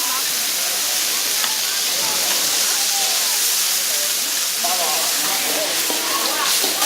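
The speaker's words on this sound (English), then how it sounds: "I actually heard the dumplings sizzling" Half-moon dumplings sizzle on a hot griddle at a street food stall in Yunnan, China, a dense steady hiss of frying that runs throughout, with voices and market bustle faintly beneath.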